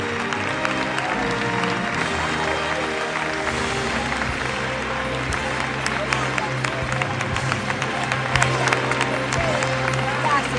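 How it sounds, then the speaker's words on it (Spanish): Large audience applauding Susana Giménez at the 2012 Martín Fierro awards ceremony, sustained loud clapping and crowd noise with cheering, music and voices mixed underneath. "fuerte el aplauso, fuerte"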